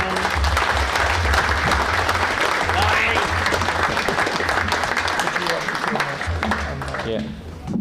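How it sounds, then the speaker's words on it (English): A crowd at a railway centenary gathering gives a long, steady round of applause outdoors, loud and continuous with voices mixed in, easing off near the end. "Give them just a huge round of applause for those two ladies"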